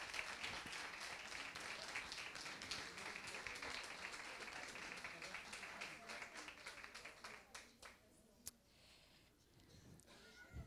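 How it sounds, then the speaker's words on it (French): Audience applause at a university science communication contest, dense at first, then thinning into scattered individual claps as it fades. "On applaudit bien fort"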